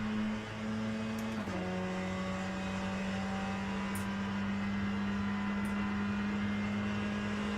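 A race car in the Le Mans Ultimate sim exits the pits, its steady engine drone holding a constant pitch with a small step down partway, loud and continuous under faint high blips.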